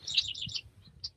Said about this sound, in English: the birds that have this staked out as their territory are not happy with us right now